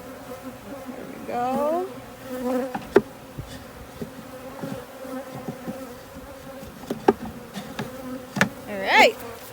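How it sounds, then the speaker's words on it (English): Honey bees buzz around a nuc box in loose, wavering drones mixed with knocks and handling clatter, while a person speaks briefly. "I'm gonna knock this box, drop these bees. They are all over the place."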